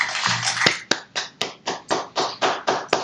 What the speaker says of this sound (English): So can we give them a round of applause too?